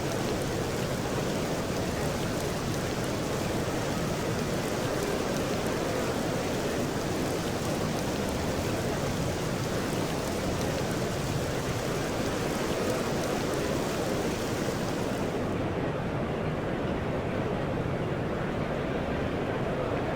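Steady heavy rain pours down on a cricket ground in EA Sports Cricket 07, a dense continuous hiss that holds constant before the brightest upper wash suddenly drops away near the end.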